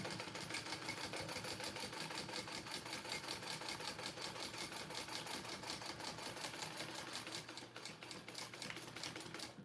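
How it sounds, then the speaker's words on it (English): Domestic sewing machine running steadily while top stitching an anchor onto a Park Mini backpack, a continuous fast mechanical chatter from start to finish with a brief slowdown near the end and no talk. "We are just going to top stitch this anchor down."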